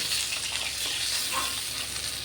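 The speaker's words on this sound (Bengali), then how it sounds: "বাকি দুটো মাছও আমি ভাজতে বসিয়ে দিয়েছি।" Steady, close sizzling and crackling of fish frying in hot oil, continuous and fairly quiet, with no talking.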